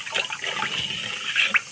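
Liquid is poured into a homemade honey syrup mixture, making a soft, continuous splashing and trickling close by, with a few brighter drips near the end.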